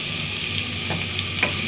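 Garlic, onion and green chilli fry in oil until brown while taro leaves are being cooked, a constant dense sizzle with a few soft stirring scrapes close by.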